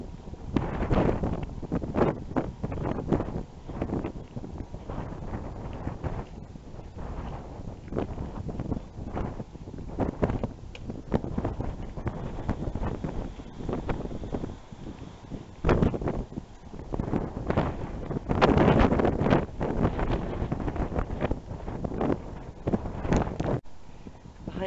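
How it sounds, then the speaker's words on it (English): Strong gusting wind buffets a handheld camera microphone while walking into it at Camp Marmal, loud rumbling bursts that rise and fall throughout, with no talking. "You can probably hear the wind blowing now as it hits the camera,"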